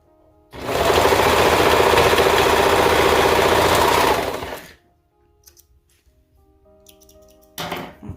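A serger overlocking fabric pieces for a romper, running in one loud, fast, steady whir for about four seconds before stopping, followed by faint handling noises and a brief restart near the end.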